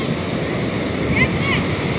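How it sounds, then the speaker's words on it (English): Strong wind roars steadily throughout, a continuous rushing, buffeting noise with no pauses, like gusts battering the microphone outdoors. "It's very, very windy."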